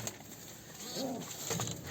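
Soft pigeon coos rising briefly over a steady background hiss, a couple of low murmuring calls close by.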